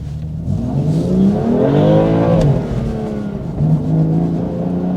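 A BMW M2 Competition with the S55 engine accelerates on a morning drive, its revs climbing and falling in a loud, close engine note, with one smooth rise and a shorter second pull.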